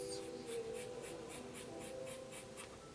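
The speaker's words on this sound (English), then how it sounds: "I'm just going to take the ponytail and cut this also." Scissors snip through the ponytail of a curly quick-weave hair piece in a quick, steady run of crisp cuts over a low background hum.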